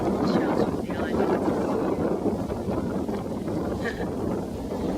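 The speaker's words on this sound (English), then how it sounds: "you always get the wind funneling through, even when there's no wind where we've been" Wind funnels between islands and rushes over a sailboat, giving steady broadband gusting and buffeting against the microphone, with faint creaks and water sounds.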